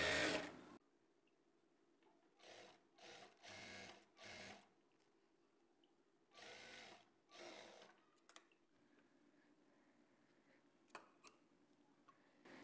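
A sewing machine stitches lining cloth on a blouse in short separate bursts of running whir broken by pauses, close and moderately loud, with a few faint clicks between runs.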